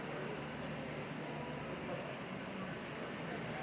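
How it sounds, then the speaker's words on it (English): Quiet, continuous rumbling and rattling of a small model auto rack train rolling along track at a model train show, steady and faint for a few seconds. "And this is Jimmy's auto rack train."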